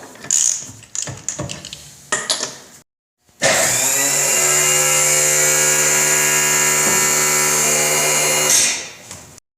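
Lug nuts on an RV wheel being tightened in a star pattern: a few clattering knocks, a brief pause, then a loud, steady whirring power wrench runs for about five seconds and winds down, with no talking.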